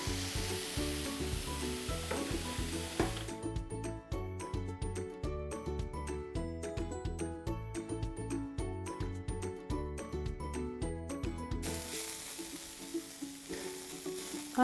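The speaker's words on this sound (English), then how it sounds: "you wanna stir it occasionally so it doesn't brown too much on the bottom or burn" Cauliflower rice fries with a steady low sizzle in a pan while being stirred, with background music playing throughout.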